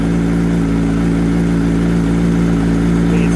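A Kawasaki ZH2 motorcycle engine idles on a cold start, steadily and loudly up close, a constant low rumble with no revving, running unchanged throughout.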